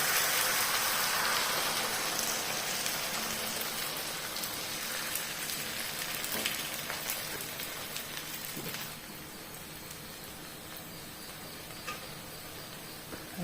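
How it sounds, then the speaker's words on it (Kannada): Ground rice batter is poured onto a hot tawa for a jackfruit kaltappa and sets off a loud, continuous crackling sizzle up close that eases slightly over time. "ಇವಾಗ ನಾವು ರುಬ್ಬಿಟ್ಟಂಥ ಅಕ್ಕಿ ಹಿಟ್ಟನ್ನು ಒಂದು ಅರ್ಧದಷ್ಟು ಹಾಕುವ"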